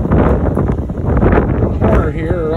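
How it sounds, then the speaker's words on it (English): Strong wind on the deck of an Alaska ferry buffets a microphone in loud, gusty roars amid wet weather, with rushing noise throughout and a faint voice briefly near the end. "It is windy and wet."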